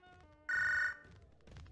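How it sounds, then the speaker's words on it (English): A telephone rings once inside a video game, a short bright electronic trill lasting about half a second over quiet background sound. "Oh, phone's ringing."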